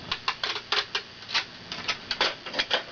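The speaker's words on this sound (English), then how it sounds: "And then you just take your packing tape," Packing tape pulled and pressed onto a folded package, a close series of sharp crackling rips and slaps in an uneven rhythm of about a dozen bursts, with no talking.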